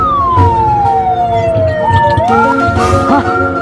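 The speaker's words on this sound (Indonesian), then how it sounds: "Ada ambulan hantu." A cartoon ghost ambulance wails its siren loudly and continuously, the pitch sliding down and wavering, with a vehicle rumble underneath.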